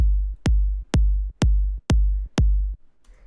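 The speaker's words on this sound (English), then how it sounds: "And with the drum bus, I also have the transients turned up a little bit" Minimal techno kick drum run through a drum bus with boosted transients, six punchy, evenly spaced hits with sharp attacks and thick booming bodies, loud and alone in a steady four-on-the-floor beat.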